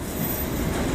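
CSX freight locomotives, with units 4158 and 8320 among them, rumble past close by, a loud continuous roar of engines and rolling rail cars with no voices.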